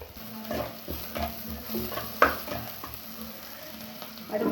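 Onion and curry leaves sauté in a pan, a soft continuous sizzle broken by repeated stirring scrapes and one sharp clink of a utensil, with no talking.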